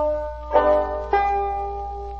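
A five-string banjo sounds two bright brushed chords with the thumb string ringing, each strum followed by a clear sustained decay, close and alone.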